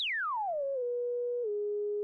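A Roland S-1 synthesizer's self-oscillating filter rings out a pure sine tone, starting high and sweeping smoothly downward, settling on a steady pitch, then stepping down once more and holding, loud and alone with no talking.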